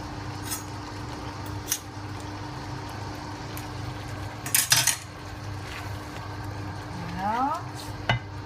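Garlic and olive oil cooking with tomato in a pan for an eggplant dish, a low steady sizzle with a few sharp clinks of a utensil against the pan, no talking.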